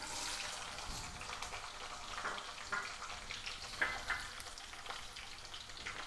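Sliced onions sizzle in a hot tempering of spices for horse gram curry, a faint, steady frying crackle with light stirring clicks and no talk.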